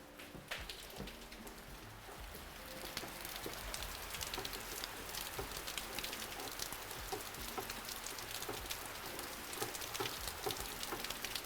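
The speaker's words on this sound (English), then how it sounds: "listen to the rain right now" Heavy rain pours outside an open doorway, a dense, steady patter with scattered drips, heard faint and at a distance with no talking.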